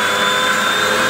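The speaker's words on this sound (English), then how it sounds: "Nobody likes the sound of a vacuum," A vacuum cleaner runs steadily, a loud whining motor drone with a high-pitched tone held throughout, no talk.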